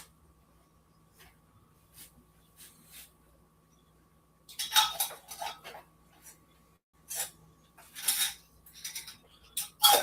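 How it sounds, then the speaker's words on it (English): Glass jars of jalapeno mango jelly getting lids set on, with light metallic clinks and taps in quick bursts over a quiet kitchen hum, sparse at first and then busier toward the end. "I'm just putting the lids on right now."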